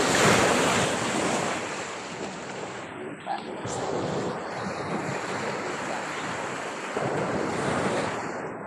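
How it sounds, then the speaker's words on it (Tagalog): Steady roar of surf washing onto a shore, mixed with heavy wind buffeting the microphone, continuous and fairly loud. "Dito kami sa tabing dagat."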